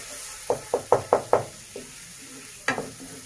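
Onions stirred in a frying pan for a Bengali bhola fish curry, a quick run of five sharp scraping knocks followed by a lighter one and another scrape later, close and moderate over a faint steady sizzle.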